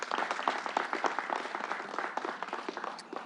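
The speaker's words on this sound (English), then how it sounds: "Let's give him a round of applause." An audience at a New York governor's press conference applauds a labor leader with steady, moderately loud clapping that continues through the clip without any talk.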